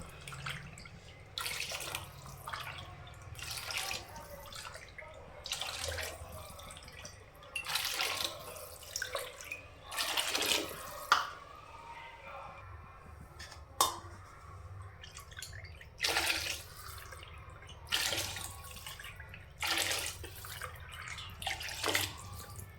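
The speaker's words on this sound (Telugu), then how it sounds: "పదకొండు కప్పులు అయితే వాటర్ వేసాను" Water poured into a cooking pot while making a pulao with broad beans, eleven cups in all, heard as repeated splashing bursts in separate pours against a quiet kitchen background.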